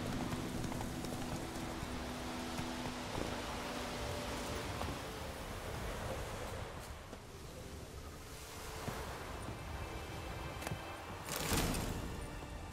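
Roach, Geralt's horse in The Witcher 3, gallops with a steady rush of hoofbeats. The pounding stays soft and continuous, blended into a windy, noisy outdoor backdrop.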